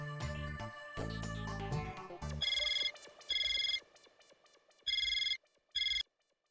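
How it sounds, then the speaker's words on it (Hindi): A phone rings with a short electronic melody, then several loud, trilling ring bursts separated by brief pauses, with no one talking. "मनोज भाई को फोन कर लीजिए ना।"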